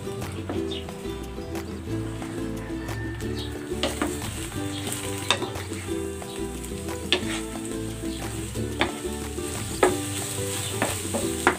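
An egg frying in hot cooking oil in a pan crackles and spits loudly and steadily, with sharp pops and stirring scrapes close by throughout.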